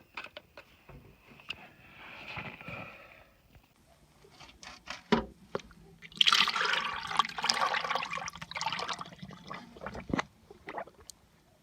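Coolant being poured into a Case 1070 tractor, splashing and gurgling in uneven bursts up close with quieter handling noises and pauses between pours.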